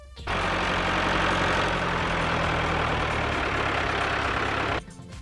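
A tractor engine idles loudly and close, a dense low rumble with steady knocking that runs unbroken for several seconds, then stops abruptly.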